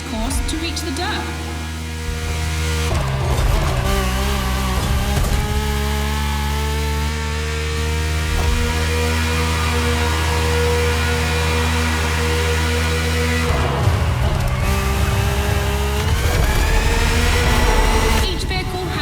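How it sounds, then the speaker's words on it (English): Rally car engine in The Crew Motorfest racing game, a loud sustained droning hum with strong steady harmonics that shifts pitch with gear changes, constant throughout with a voice speaking over it. "The rally car has already changed its course to reach the dirt."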